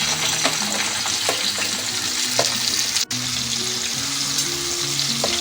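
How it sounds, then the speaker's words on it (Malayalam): Chopped onion frying in hot coconut oil for a kakka (clam) roast, a steady loud sizzle and crackle throughout with faint stirring scrapes. "ചൂടായ വെളിച്ചെണ്ണയിലേക്ക് അരിഞ്ഞു വെച്ചിരിക്കുന്ന സബോള ചേർക്കാം"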